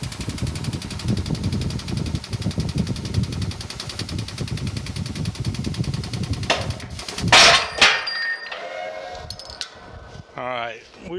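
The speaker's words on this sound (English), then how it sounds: "Basically just putting air pressure onto my hydraulic jack so I don't have to hand crank it, but it looks like it's pressing the sleeve out." An air-over-hydraulic jack presses a valve sleeve out of a steam locomotive stoker engine, giving a steady pneumatic hiss and hum broken by loud metallic clangs and creaks near the end, with someone talking over it.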